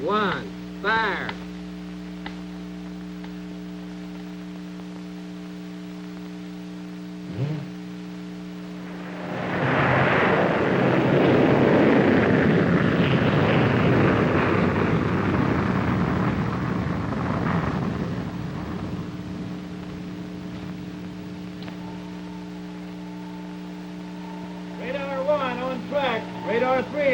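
A Corporal missile lifts off in a 1957 rocket launch, with a sudden loud rumbling roar that swells and fades over several seconds after a spoken countdown, over a steady electrical hum.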